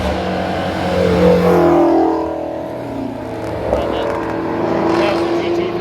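Several Ford Mustangs drive past at Tougefest, a steady engine roar that swells and fades over the whole stretch, heard with people talking nearby.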